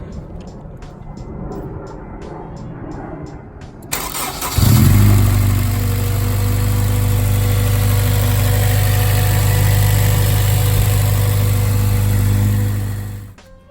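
A Honda Civic Type R EP3 fitted with a K-Tuned idle air assist valve delete cranks briefly after some light clicking, catches with a loud burst, then settles into a steady close idle before shutting off at the end.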